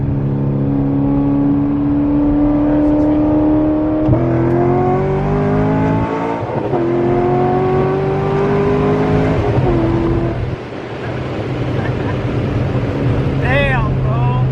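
A V8 car accelerates hard toward 60 mph on a road in Mexico, engine roaring and rising in pitch through several gear shifts, heard from inside the cabin. People talk over it.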